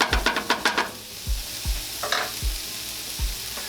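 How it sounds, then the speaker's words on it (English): Garlic sautéing in a pan while turkey teriyaki is prepared, with a burst of quick stirring scrapes at first, then soft sizzle under a few dull knocks of a utensil against the pan, close and moderately quiet. "let our garlic saute in for about another minute"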